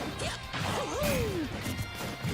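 An up smash landing in a Super Smash Bros match between Wolf and Mario, heard as a punchy crash of impact with a rising and falling whoosh, all over a constant crowd and game noise bed.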